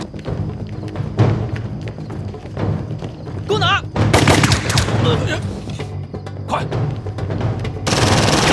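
Gunfire in a Chinese espionage war drama battle scene, with bursts of shots and thuds under shouting voices and loud background noise.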